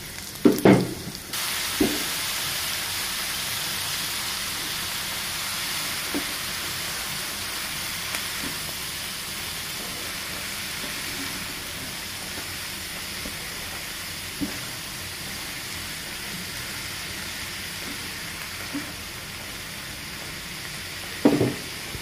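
Cabbage hisses and sizzles steadily in a hot frying pan, a loud continuous fry with a few sharp clatters of a spatula at the start and end.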